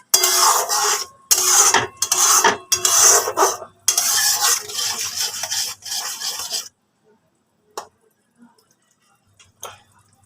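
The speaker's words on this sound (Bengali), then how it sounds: "তো এবারে মশলাটাকে খুব ভালো করে কিন্তু কষিয়ে নিতে হবে।" Spice masala being stirred and fried in a pan, loud repeated scraping strokes of a spatula in bursts, then a near silence broken by a couple of faint taps.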